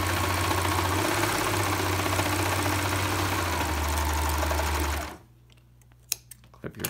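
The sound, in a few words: serger sewing along fabric edge of scrub cap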